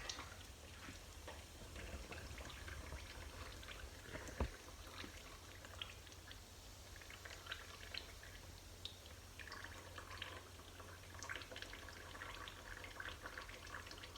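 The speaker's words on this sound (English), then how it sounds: "Let this drain out." Transmission fluid draining from a 1965 Comet's C4 gearbox: a faint, continuous trickle with scattered drips and small splashes, quiet and steady throughout, no voices.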